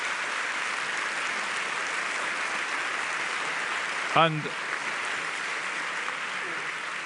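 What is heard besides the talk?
audience applause for a summit panel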